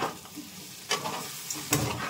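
Steady sizzling of potatoes frying in a pan, with a couple of brief clatters of stirring, close and moderately loud.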